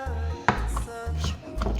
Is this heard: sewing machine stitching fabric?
no